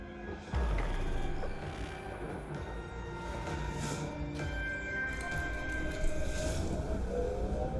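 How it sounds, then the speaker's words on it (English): Riding the metro train in the video game Cyberpunk 2077, a continuous rumbling rail roar with tonal whines and squeals, steady and enveloping across the whole span. "we're gonna ride the metro"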